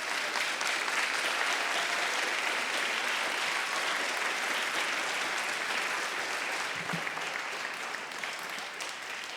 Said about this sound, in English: So students, will you please applaud your parents,